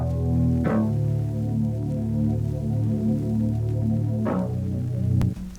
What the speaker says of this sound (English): The first bass by itself is gonna sound something like this.